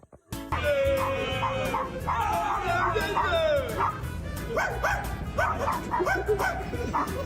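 A puppy barks and yips in quick bursts, with whimpering, rising whines and a howl-like cry, close and fairly loud over a murmuring background.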